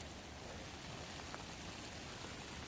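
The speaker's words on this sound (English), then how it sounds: "it's raining too much for this phone" Rain falling in the woods during a deer gun hunt, a faint continuous patter with soft scattered drops and no other sounds.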